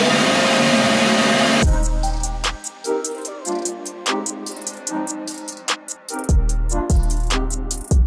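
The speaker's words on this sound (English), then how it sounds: "So let's vacuum." A vacuum cleaner running inside the interior of a 1985 Fox Body Mustang notchback during a build, a loud, close, rushing whine for about a second and a half before it cuts off abruptly and other sounds follow.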